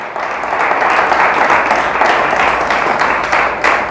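A church congregation claps loudly and continuously in praise during a Spanish-language service, a thick, sustained roar of many hands with slight swells toward the end.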